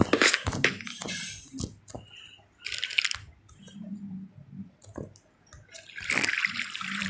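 Water in a video game, sloshing, splashing and dripping sounds in irregular bursts separated by short quieter gaps.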